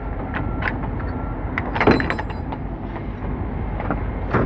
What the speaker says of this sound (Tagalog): Isang kamay lang pag nagsara ng pintuan.